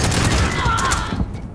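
Gunfire in a video game, a dense rapid volley of shots rattling close and loud for about a second before thinning out.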